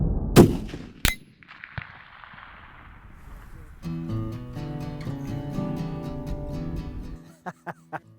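A rifle fires at a 12 by 12 inch steel plate target far downrange, making two sharp, loud reports close together, then a quieter stretch followed by sustained ringing, tonal sound and a few later clicks.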